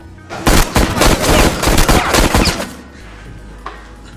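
A rapid burst of gunshots cracks out in quick succession, loud and close, then fades to quiet with one faint later pop.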